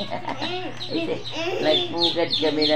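Baby chicks taken from a nest and moved to a cardboard box let out thin, high, rapid peeps close by, mixed with people talking.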